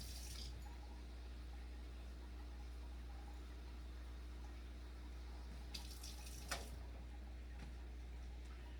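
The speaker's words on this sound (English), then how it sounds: "I'm going to add a cup of water to it." Water is poured into a cup of milk while mixing cornbread batter, a faint, quiet trickle over low room hum with a couple of brief soft splashes.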